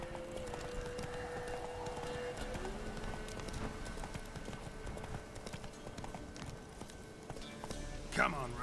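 Roach, Geralt's horse in The Witcher 3, gallops with a steady run of hoof clip-clop under constant game music and ambience, while someone talks over it throughout.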